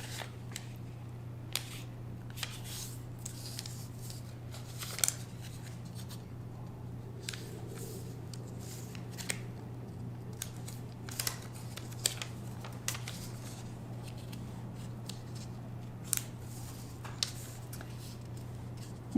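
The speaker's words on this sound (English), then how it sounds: "And then fold the module in half." A paper origami module is folded in half by hand, giving faint, scattered crisp creasing clicks and rustles over a steady low hum in a quiet room.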